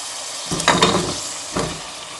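Potatoes tossed into a tomato and onion masala for an aloo baingan curry, a steady sizzle broken by two bursts of stirring and scraping in the pan.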